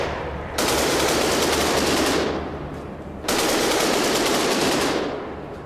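Rapid automatic gunfire from a robot in a survival video game: two loud, sustained bursts of fast shots, the first lasting about a second and a half, the second about two seconds, close and harsh with no voices.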